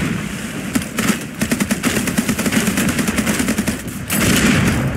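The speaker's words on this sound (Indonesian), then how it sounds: "Kita gunakan ini aja, full mesin gun ini." Rapid bursts of ship-mounted machine gun fire in the naval combat game Age of Water, a dense rattling stream of shots running nearly throughout, loud and close, with no talk over it.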